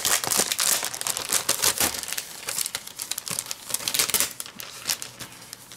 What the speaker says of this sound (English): I don't want to destroy this wrapper